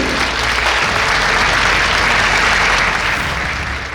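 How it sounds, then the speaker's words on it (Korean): A large audience at a Christian evening gathering gives sustained, dense applause in praise of God, a loud, steady wash of clapping that holds for several seconds before tapering slightly at the end. "우리 하나님께 한번 영광의 박수를 드리겠습니다"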